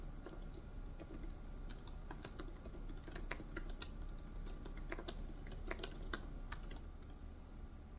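Typing on a computer keyboard while writing a story, quiet, close and continuous clicking with irregular bursts of keystrokes over a soft background hum, no talk.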